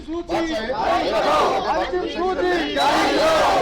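A crowd of nursing officer job candidates on hold protests at the SIHFW main gate, a dense mass of shouting voices rising and overlapping loudly and continuously, with some chatter mixed in.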